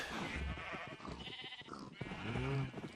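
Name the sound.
sheep bleating in the video game Minecraft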